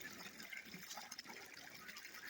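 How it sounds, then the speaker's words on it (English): Fresh water flowing from a newly dug well in Pacux: a soft, steady hiss and splash of water, faint and continuous with no speech. "This is the first water coming out of the well that we made here at Pacux."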